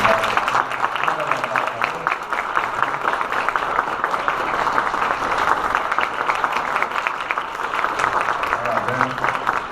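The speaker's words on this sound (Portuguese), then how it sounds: "Gostaria que a gente desse uma salva de palmas para o" Audience applause at a university inaugural lecture, steady dense clapping filling the room throughout at even loudness, with no break.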